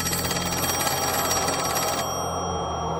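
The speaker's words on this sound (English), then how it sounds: "And the phone began to ring again, a call Philip chose not to accept." A telephone rings continuously under a dense wash of eerie background sound, the ringing blending into the ambience before it thins out partway through.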